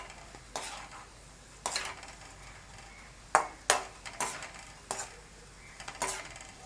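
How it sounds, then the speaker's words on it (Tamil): Intermittent clatters of a utensil stirring dried bitter gourd in a pan, with a faint sizzle of frying in oil underneath; several sharp scrapes and taps spaced irregularly, fairly close. "பாவக்காய் வத்தலை நாங்கள் கொஞ்சம் கொஞ்சமாக போட்டு பொரிச்செடுப்போம்"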